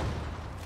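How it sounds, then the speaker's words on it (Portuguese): A grenade blast in the online shooter Zula, a loud, dense low boom filling the short moment and decaying slightly at the end. "Granada na cabeça dele."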